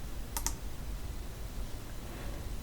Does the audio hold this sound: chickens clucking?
no